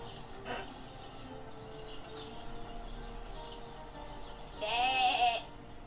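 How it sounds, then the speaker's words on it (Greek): A lone sheep bleating in a pen in the video game Divinity: Original Sin, one short wavering bleat near the end, fairly close, over faint background ambience with a soft earlier call. "pen guarded by a rather lonely little sheep"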